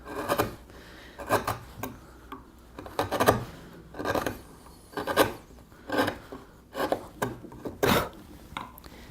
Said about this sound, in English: I'm going to angle my chisel up a little bit more so that I just take material from the back